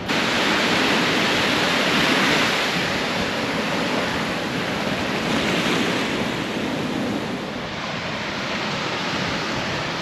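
Surf washes steadily onto the shore at 14 Mile Beach on Warroora Station near Coral Bay, a loud continuous roar of breaking waves mixed with wind buffeting the microphone.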